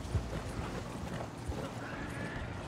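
Horse hooves clip-clopping and splashing as the horse jumps a branch and the rider tumbles headfirst into water in the Red Dead Online video game, with a couple of low thuds over a busy, continuous game soundscape.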